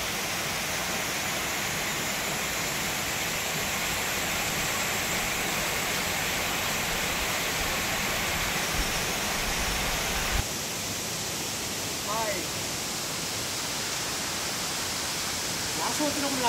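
The NR Puram waterfall gives a steady, broadband rush of falling water that carries on without a break. It is moderately loud and fills the whole stretch, with faint voices in the background.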